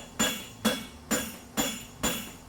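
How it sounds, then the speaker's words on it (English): A blacksmith flattens hot metal: five evenly spaced hammer strikes ring out close and clear, each a crisp clang with a short metallic tail. "flatten it up with the hammer."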